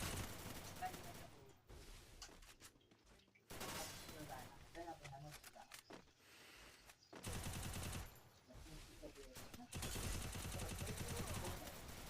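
Gunfire in the Free Fire battle game: loud, close bursts of rapid automatic shots come in clusters separated by brief lulls, with a voice speaking now and then between the volleys.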